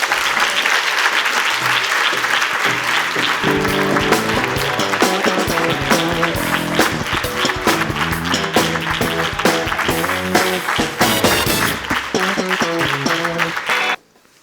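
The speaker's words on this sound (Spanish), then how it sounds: "Un aplauso como se merece." Audience applause at an award ceremony for social work, loud sustained clapping from a close crowd over music, ending abruptly.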